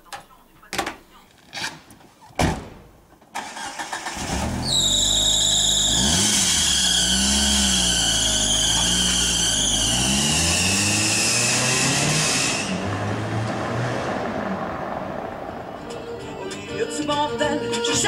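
A car engine starts and revs, then holds a steady running drone as the vehicle pulls away, loud and close after a few door-like thumps at the start.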